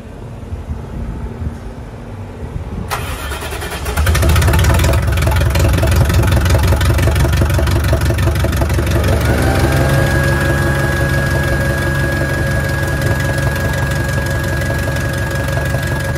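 A MaxxForce diesel truck engine idles in gear under heavy load, a loud steady low rumble with knocking that starts abruptly a few seconds in and holds continuously, a higher whine rising partway through.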